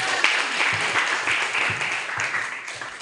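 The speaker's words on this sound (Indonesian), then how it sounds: "Kasih aplaus dulu buat kita" A group applauds together after an Indonesian religious lesson, a dense steady wash of clapping lasting throughout with a few louder bursts, fairly close and without talk over it.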